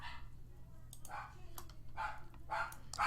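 A pet dog barks in a few short, fairly faint bursts in the background of a room, with a low steady hum underneath.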